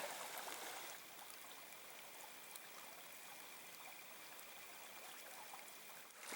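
Steady rushing water from a nearby winter creek, a continuous bright wash of flowing sound with no voices.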